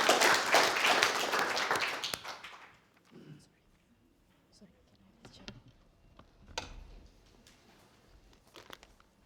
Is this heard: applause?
yes